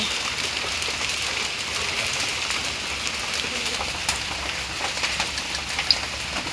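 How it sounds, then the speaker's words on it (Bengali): Steady rain pattering down on a surface, a continuous hiss with occasional louder drips, no voices. "বৃষ্টি পড়তেছে ইয়ের মধ্যে"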